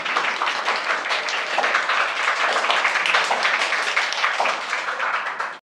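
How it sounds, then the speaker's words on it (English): A classroom audience claps through a loud, steady round of applause that fills the whole stretch and then cuts off abruptly. "Give a big round of applause for all of you guys."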